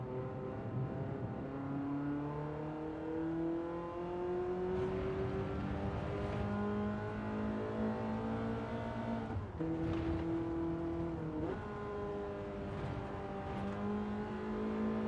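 Car engine revving steadily on a track in the Gran Turismo video game, a close, continuous drone rising and falling in pitch through gear shifts, with brief drops in pitch as it shifts.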